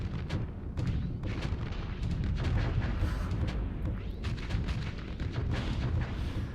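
A missile wave strikes ships in the space combat game Starsector, a sustained barrage of overlapping explosions and booming impacts rumbling continuously for several seconds, with no voices.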